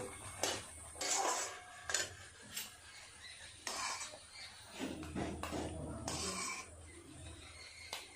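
A spoon scrapes and clinks against a pan and bowl while semolina halwa is served out, producing several separate metallic taps and scrapes at close range with soft background noise.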